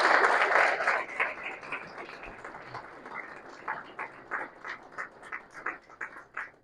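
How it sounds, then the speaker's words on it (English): An audience at a community gathering at Watford breaks into a short burst of applause that quickly thins into scattered, spaced individual claps, fading over several seconds with no speech. "I think they deserve a round of applause for that"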